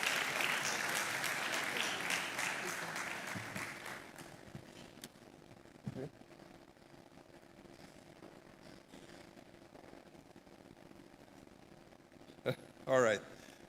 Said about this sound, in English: Please give me a warm round of applause.